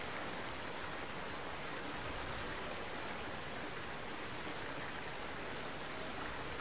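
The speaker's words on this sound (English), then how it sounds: "I have to physically destroy the pipes in order to make it fill with water" Water rushes into broken pipes in the sci-fi horror game Soma, a constant soft hissing flow like a stream, fairly quiet and unchanging throughout with no talking.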